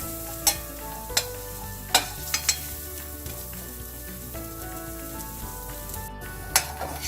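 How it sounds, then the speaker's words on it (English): Continuous sizzling of shrimp frying in a pan, punctuated by several sharp scraping clinks of a utensil stirring, no voices. "I'm going to continue frying it"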